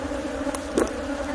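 Honeybees hum steadily around a hive during canola-season colony splitting, a close, continuous drone with a few brief louder passes near the end.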